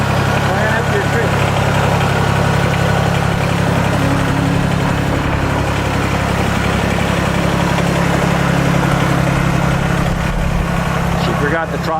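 A Kubota BX25D tractor engine idles at low throttle, a loud, steady, close-up rumble that holds unchanged from start to finish.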